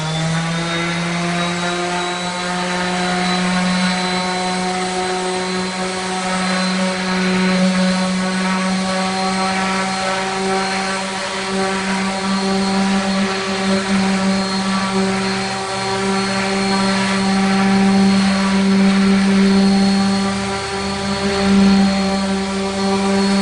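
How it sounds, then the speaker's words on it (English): A power sander runs on a wooden workpiece, giving a loud, steady motor whine with a sustained tonal hum that holds throughout. "start with the sander on the workpiece when you turn it on"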